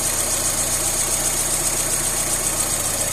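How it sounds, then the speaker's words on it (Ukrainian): A 1.5-litre VAZ 2109 engine idling smoothly on a rebuilt Solex 21083 carburetor, a close, steady mid-pitched hum with even vibration and no speech. "Мотор рівнесенько і прекрасно працює."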